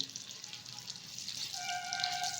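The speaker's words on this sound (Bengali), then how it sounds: "এখন পেস্ট করে রাখা কাঁঠালে কাঁঠালের দানাটা দিয়ে দিচ্ছি" Jackfruit seed paste frying in ghee while being stirred, a soft, continuous sizzle and crackle with faint scraping, quiet and close, no voices.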